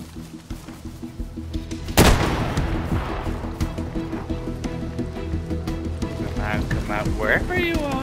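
A sharp gunshot cracks out loudly in DayZ, followed by a long rumbling tail and scattered distant shots and rattles, with a muffled voice and chatter at times underneath.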